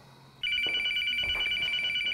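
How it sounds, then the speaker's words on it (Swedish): A telephone starts ringing abruptly and keeps going, a loud, steady electronic trill that continues without a break to the end, with faint household noise underneath. "Mamma, nu tror jag att de ringer."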